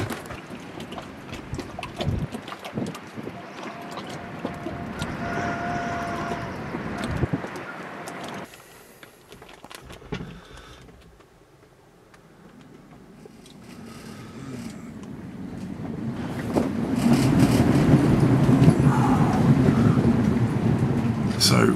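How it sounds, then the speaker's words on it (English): Gale force wind gusting around a sailboat lying at anchor, a steady roar that drops away briefly then builds back to a strong, loud rush, with a voice speaking over it early on. "That wind strength has picked right up now as well"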